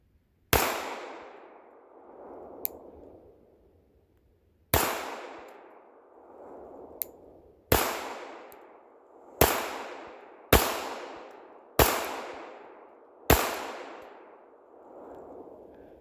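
Seven loud, sharp pistol shots from a GForce Chronicle 1911 9mm, fired in an uneven rhythm with each report ringing out into a long decaying echo. The pairs come quickly and the gaps are slower, and no one speaks.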